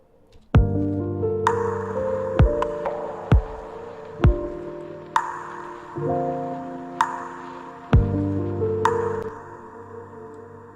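A slow lofi beat of struck, bell-like tones with long ringing tails, reverb added so each hit swells into a washy, reverberant decay before the next.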